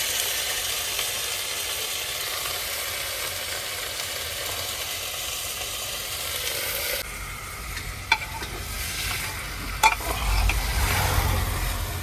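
Potatoes fry in hot oil with garlic and ginger, a continuous crackling sizzle broken by scraping stirs and a few sharp knocks of the utensil against the pan, while a low engine hum idles in the background.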